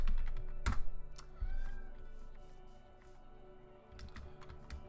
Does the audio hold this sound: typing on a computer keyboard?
yes